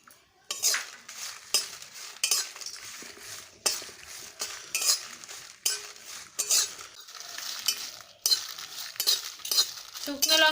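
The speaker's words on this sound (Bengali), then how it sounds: "শুকনো লঙ্কাগুলো ভালোভাবে ভেজে নেব।" Dry red chillies toss and rattle in a hot, dry wok, with repeated scraping stir strokes and metallic clinks recurring every second or so, close and fairly loud, without any talk.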